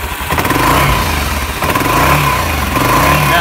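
An ATV engine under repair is given throttle, revving loudly and close with a rough, clattering mid-pitched drone that rises and falls without any talk.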